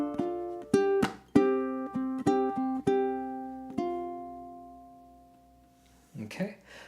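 Ukulele playing an alternate ending for a song, a run of tapped, ringing notes followed by a sparse finger-picked phrase that decays to near silence before a brief voice.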